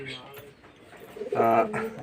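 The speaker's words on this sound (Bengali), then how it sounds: "আর এইটা সেই মেয়ে পায়রা ফুলশিলা লাইনের পায়রা" A female Fulshila line pigeon coos softly up close, a low throaty burst near the end rising over a faint background murmur.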